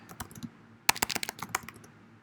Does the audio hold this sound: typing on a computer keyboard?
yes